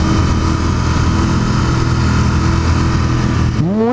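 Royal Enfield Continental GT 650 motorcycle engine revving hard, a loud steady drone held close up for several seconds before a rising sweep as the revs climb near the end.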